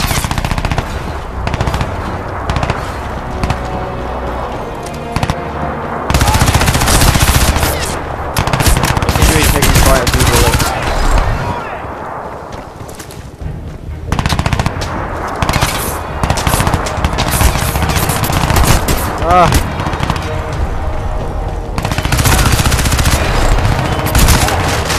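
Video game gunfire in Crysis 2: loud bursts of rapid automatic fire in repeated volleys separated by short pauses, with a voice speaking briefly in between.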